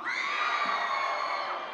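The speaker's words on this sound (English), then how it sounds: "The same people just clapped." Convention audience cheers and whoops loudly for a sustained stretch, a dense wash of crowd voices hanging at even volume with no single speaker.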